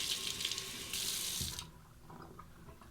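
Running tap water splashes into a sink as a face and razor are rinsed during a mug-soap wet shave, a close hissing stream that cuts off abruptly partway, leaving faint drips and handling noises.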